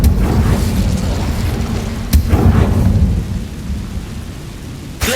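A fire spell blast from the Hogwarts Legacy video game, a loud, deep roaring rumble with a sharp crack partway through that fades and then bursts again at the end, with no voices.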